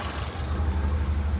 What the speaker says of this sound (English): let's start off with the engine running. Here we go. Ticking over lovely.